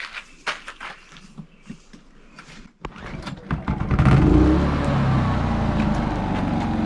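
A Craftsman gasoline generator made by Generac, first heard as a few rattling clicks and pulls, then catching and settling into a loud, steady running drone for the last three seconds.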